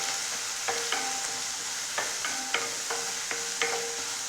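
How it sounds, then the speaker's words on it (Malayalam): Two finely chopped onions are stirred in hot coconut oil in a pan for a Kerala potato and drumstick stir-fry, giving a steady quiet sizzle broken by repeated spoon-scraping strokes. "അപ്പോൾ വെളിച്ചെണ്ണ ചൂടായതിലേക്ക് നമ്മൾക്ക് 2 സവാള പൊടിയായി അരിഞ്ഞ് വെച്ചത് ഇട്ട് കൊടുക്കാം."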